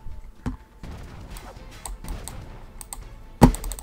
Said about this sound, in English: Oh my god, I'm clicking and dragging so hard.